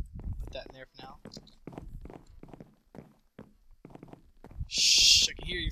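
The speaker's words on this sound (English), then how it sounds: "Shh, I can hear your footsteps." Footsteps in the video game SurvivalCraft thud in a steady walking rhythm, soft and close, mixed with a person talking and ending in a brief loud hiss-like burst.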